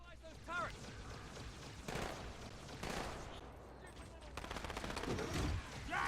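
Rapid bursts of gunfire in a sci-fi shooter video game, dense and continuous across the stretch, mixed with game effects and a voice talking over it.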